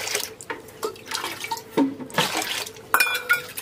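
Water running and dripping into a pot of rice set to soak in a village kitchen, a steady splashing pour with scattered drips and small clinks, close and moderately loud, with no talking.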